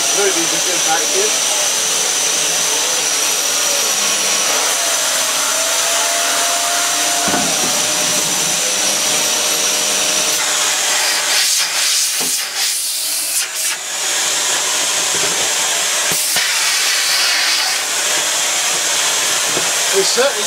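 A loud, steady vacuum cleaner roar with a bright hiss, running continuously, with brief clunks and dips as the nozzle shifts.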